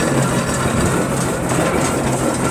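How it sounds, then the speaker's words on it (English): A 1924 Fowler Showman's steam tractor rolls past in a steam rally parade, giving a steady, dense mechanical rumble and hiss with a low hum underneath, loud and continuous throughout. "this is a Fowler Showman's tractor called the Rosemary"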